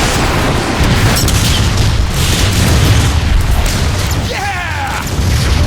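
Metroplex fires explosive shots in Transformers: Fall of Cybertron, producing loud, continuous booming blasts and rumbling detonations that fill the scene, with a brief voice and mechanical whine near the end.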